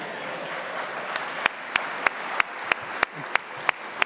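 Conference audience at a UKIP party gathering claps in a steady crowd applause, with sharper single claps ringing out in a regular rhythm above the wash of hands.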